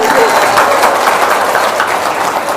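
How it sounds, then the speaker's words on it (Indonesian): A crowd audience claps and applauds steadily at an Indonesian talk event, dense and loud throughout with a few voices mixed in underneath. "Tepuk tangan dong."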